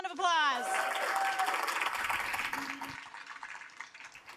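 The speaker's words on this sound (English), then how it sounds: "Can we get a round of applause? Round of applause." Applause from an audience at a corporate speaker series event: a dense burst of clapping that starts at once and stays loud, then thins toward the end, with a short vocal whoop near the start.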